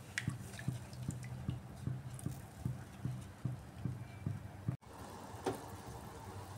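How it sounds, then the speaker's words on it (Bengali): Egg kofta curry gravy boils in a pan, throwing up soft, regular plops and bursts of bubbles at a steady rhythm, close by and fairly quiet. "গ্রেভিটা এখন ফুটতে থাক, গ্রেভিটা কিছুক্ষণ ফুটতে থাক।"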